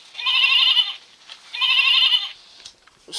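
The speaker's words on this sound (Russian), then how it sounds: "Овца." Two loud bleats from a sheep, each about a second long with a wavering, quavering tone, separated by a short pause, with faint clicks afterward.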